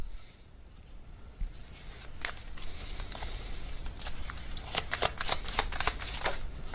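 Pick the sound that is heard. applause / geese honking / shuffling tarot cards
shuffling tarot cards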